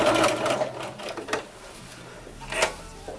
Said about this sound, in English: I'm just gonna do a quick top stitch across it